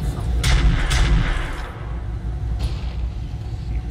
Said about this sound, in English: He fires at the Helopolis that can barely do any damage